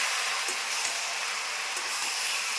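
Spice paste of cumin, ginger, chili, garlic and onion hitting a hot pan with steady, loud sizzling and hissing throughout, with faint stirring scrapes.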